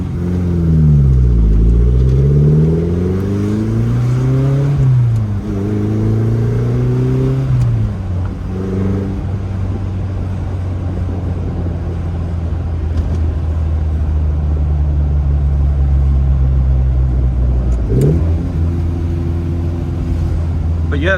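A Lotus Elan restomod fitted with a new, quieter fuel pump idles just under 1,000 rpm in a steady, low rumble, with a couple of brief blips early on and someone talking over it throughout.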